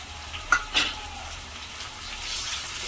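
Tomatoes are added to onions frying in a pan, giving a faint steady sizzle with a couple of soft clinks of a spoon stirring near the start.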